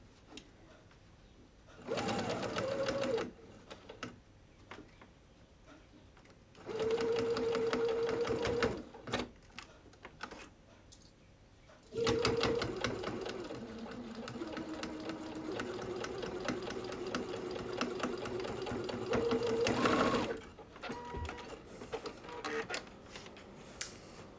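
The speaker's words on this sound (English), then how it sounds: "I love the sound of the sewing machine." A sewing machine stitches a fabric tote bag in several bursts of rapid, even stitching, pausing between runs, close and fairly loud with quiet gaps.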